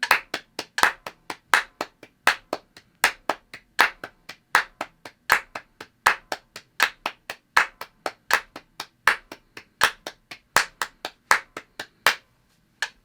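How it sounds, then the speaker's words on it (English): Sharp hand claps come in tight groups of three, one group on each metronome click, as a steady, evenly spaced pattern in a quiet room. "3 claps on every click"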